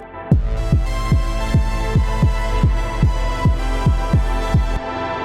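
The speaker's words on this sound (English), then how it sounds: "I thought it'd be kind of cool to put a compressor on it" A synthesizer pumps against a kick drum through sidechain compression, the kick thumping in a steady four-to-the-floor pulse while the sustained synth swells and ducks after every beat in a loud, looping dance-style groove.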